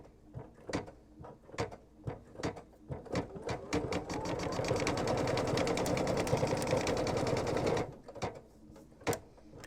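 An embroidery sewing machine stitches an appliqué pumpkin bag in the hoop, starting with separate needle thumps, then a rapid steady whirring run of stitching for several seconds before slowing back to single clicks.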